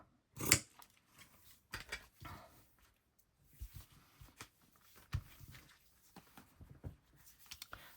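Scissors trimming craft materials for floral junk journal toppers, including velvet: a series of close, crisp snips and cuts at irregular intervals, quiet between them.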